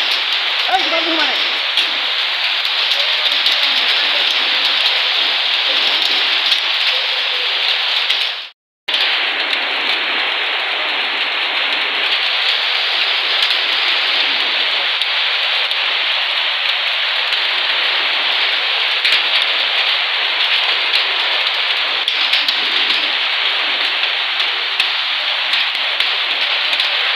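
Heavy rain with hail pounding down outdoors, a loud dense continuous hiss of drops striking surfaces that is cut off for a moment near the middle and then resumes just as strongly.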